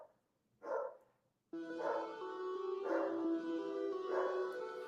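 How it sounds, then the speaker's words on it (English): Several loud dog barks, a short one followed by three longer, harmonic barks in a steady rhythm, close to the microphone with no talking. "Sorry for my dogs, they're loud."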